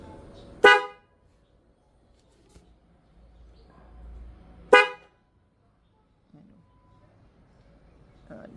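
Two short, loud blasts from a Denso horn fitted to a Honda CB150X motorcycle, sounded close up several seconds apart, with quiet gaps and faint handling noise between them.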